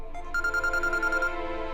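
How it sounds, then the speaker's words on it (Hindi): A phone rings in an indoor scene from a Hindi TV serial, giving a bright, repeating pulsed ringtone for about a second over low room ambience, with no talking. "ये मीरा मैडम का फोन है"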